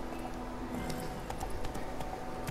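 Geralt's horse Roach in The Witcher 3 trots along, a steady clip-clop of hooves on the ground, moderately close and continuous over a faint background.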